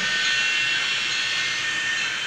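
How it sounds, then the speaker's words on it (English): Union Pacific passenger train, seemingly a model railway, running past with a steady loud hissing rumble, no voices. "Here comes the Union Pacific again."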